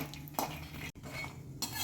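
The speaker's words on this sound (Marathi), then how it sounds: "आता कढईमध्ये बदाम घालून घेणार आहोत. बदाम आपल्याला अगदी 2 मिनिट मंद आचेवर भाजून घ्यायचे आहे." Almonds in a kadhai over low heat, quiet clinks and scrapes of a utensil stirring against the metal pan, soft and close with brief louder knocks and a short gap midway.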